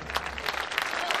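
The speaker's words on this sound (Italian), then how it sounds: "meritano tutti i vostri applausi" Applause from the audience at a civic band concert during a patronal feast in Manfredonia, Italy, with dense, steady clapping filling the hall throughout and no voices over it.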